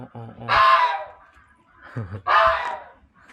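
Two loud, harsh honking calls from a large goose in an old stone village, each a second long, separated by a short pause, with some lower voice-like sounds between them.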